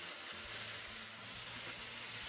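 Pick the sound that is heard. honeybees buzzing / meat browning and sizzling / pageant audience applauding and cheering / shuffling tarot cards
meat browning and sizzling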